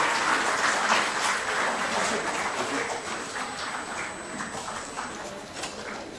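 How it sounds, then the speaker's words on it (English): An audience at a state-level student competition award and graduation ceremony in Kerala gives a round of applause. The clapping is dense, moderately loud and continuous, gradually thinning over six seconds, with faint background voices. "Give him a big round of applause,"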